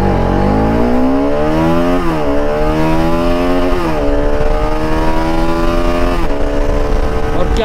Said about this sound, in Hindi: दहाड़ रहा है इंजन भाई, RS का इंजन दहाड़ रहा है